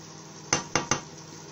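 A spoon scraping and knocking against a metal pan while cooked lauki and vadi sabzi is served into another dish, with three sharp clinks in quick succession against a quiet background.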